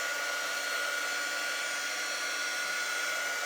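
A hair dryer blows steadily on a layer of paint on a shirt with a skunk design, a constant close whirring hiss with no pauses and no talking.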